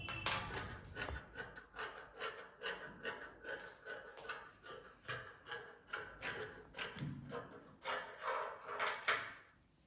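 Scissors cutting a piece of fabric for a kurti, a steady run of rhythmic rasping snips close up, repeating roughly twice a second throughout with no talk.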